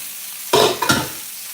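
Food hitting a hot pan on the stove for a quick home-cooked meal, two loud bursts of sizzling close by, the second following shortly after the first, then a softer steady frying hiss.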